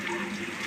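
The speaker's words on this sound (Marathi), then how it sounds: "पाणी भरते" Water runs steadily from a tap while a container fills, a short continuous rushing splash, close and fairly loud, with no talking.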